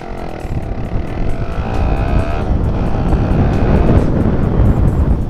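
A Yamaha R15 V3 motorcycle engine revs under quick throttle, a loud close drone that climbs steadily in pitch over a few seconds, with an even, unbroken roar.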